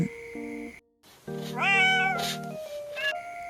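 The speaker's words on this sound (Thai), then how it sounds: "แมวน้อย ร้องรับ" A kitten meows in reply, one clear rising-falling cry after a short pause, close and fairly loud, with a steady tonal background and no talking.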